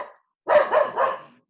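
A dog barks three times in quick succession, loud and close, after a short quiet pause.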